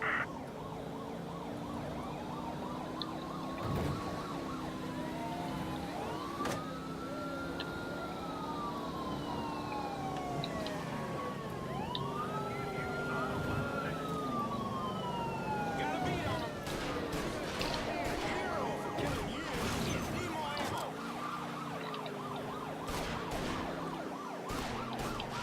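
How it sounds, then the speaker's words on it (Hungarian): A police car siren wails on and off in the video game Mafia III, rising and falling steadily over traffic and engine noise while someone talks over it. "Na, mi a rendőrautó annyira rám jött"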